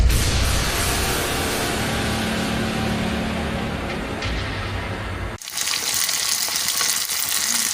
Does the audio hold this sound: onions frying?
yes